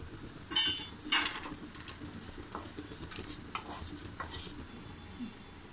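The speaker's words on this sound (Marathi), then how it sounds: "आता आपण एका प्लेटमध्ये काढून घेऊया।" Roasted nuts are scraped from a pan onto a plate, a couple of sharp spoon scrapes and clinks up front followed by softer scraping, close and fairly quiet.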